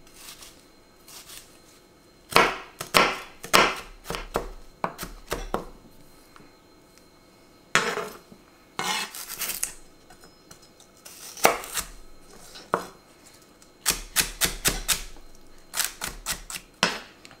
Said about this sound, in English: we just need to chop our onion and celery very, very thinly or finely